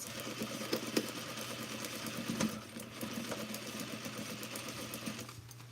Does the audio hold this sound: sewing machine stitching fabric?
yes